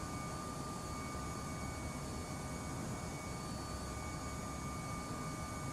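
A steady, even hum from the Embraer E175 jet engines in Microsoft Flight Simulator during a climb, a constant broadband drone with faint steady tones on top and no talking.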